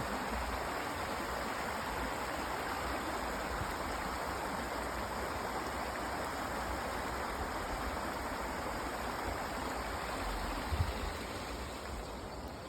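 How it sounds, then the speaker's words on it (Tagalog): Water flowing in a forest stream makes a steady, full rushing sound that holds evenly throughout with no pauses and no voices. "Pakikinggan mo lang guys ang agos ng tubig."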